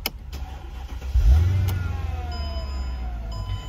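A 2005 Mercedes-Benz CLK 55 AMG with its 5.5L V8 starting up close by: a short crank bursts into a loud low rumble that eases into a steady, throbbing idle, with no talking.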